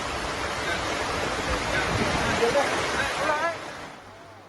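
Heavy monsoon rain and flowing floodwater in the Savarkundla area of Saurashtra, Gujarat, make a dense, steady roar that holds for about three and a half seconds, then fades toward the end.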